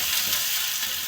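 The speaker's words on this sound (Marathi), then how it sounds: "तेल तापल्यामुळे कांदा टाकून दिला मी. इथे कांदा फ्राय होता" Chopped onion frying in hot oil, a steady close sizzle with fine crackling that runs evenly through the whole moment, nobody talking.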